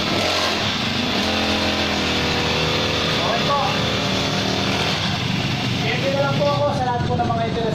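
A cheap CG411 petrol grass cutter engine runs steadily after being started, a loud continuous buzzing drone that persists under someone speaking nearby.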